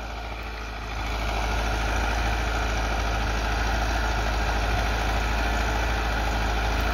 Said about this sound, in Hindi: ट्रैक्टर बड़ा जनाब